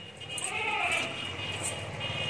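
A goat bleats on a farm in the Bahawalpur area, one wavering call rising over steady background noise, with a second fainter bleat following shortly after.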